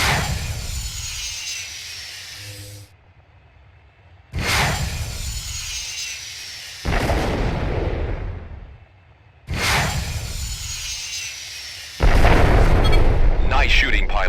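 Rockeye heat-seeking missiles launch and detonate in a Freespace 2 space-combat mission: loud roaring bursts with hissing whooshes come in about four rapid waves, each cutting off sharply before the next.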